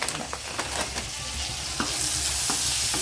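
Onion, curry leaves, a green chilli and tomato fry in a pan with a continuous hissing sizzle, broken by a few clicks and stirring scrapes early on, then settling into an even, louder fry.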